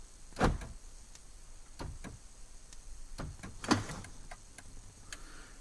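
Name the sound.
car door locks clicking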